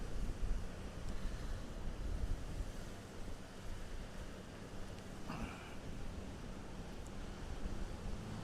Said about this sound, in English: Really worried about this wind catching the tripod.